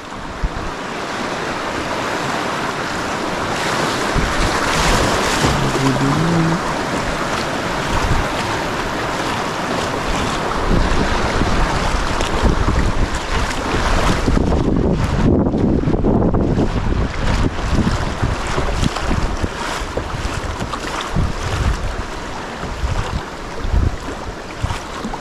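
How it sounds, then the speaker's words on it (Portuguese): River rapids at a bend on the Rio do Peixe during a kayak expedition, a loud constant rush of churning water with wind buffeting the microphone throughout. "É corredeira com curva, galera."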